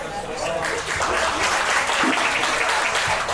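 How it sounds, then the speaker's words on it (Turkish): Guests applauding the bride and groom at a wedding celebration, a dense, continuous wash of clapping from a crowd, with a voice speaking over it. "Bu alkışlar da sizin için."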